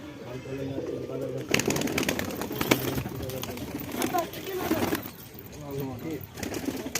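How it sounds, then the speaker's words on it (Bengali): A pair of local desi pigeons coo in soft, low rolling calls, heard close by while someone talks over them. "এক পেয়ার দেশি কবুতর এগুলো খুবই সুন্দর খেলা আছে"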